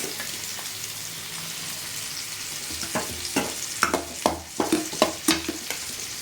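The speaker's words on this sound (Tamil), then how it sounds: "இப்போது பாவக்காவை எண்ணெயில் போடுறேன்" Bitter gourd pieces dropped into hot oil, giving a steady background sizzle that turns into a run of sharp, spattering crackles and stirring knocks as they fry.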